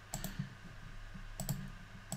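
Calculator buttons are pressed during a pre-calculus trig lesson, giving soft, quick clicks in small clusters of two or three, faint and close, with no speech.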